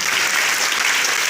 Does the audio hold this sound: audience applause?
yes